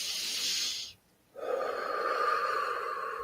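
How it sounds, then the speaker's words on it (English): Two deep breaths during a guided spiritual healing meditation: a hissing breath, a brief silence, then a longer, lower, steady breath, close to the microphone with no speech. "Take some deep breaths in."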